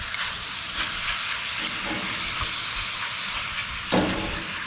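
Bacon strips sizzling in an old Griswold cast iron skillet on an old Coleman camping stove, a steady close, dense hiss with brief crackles and one louder pop near the end, no talking.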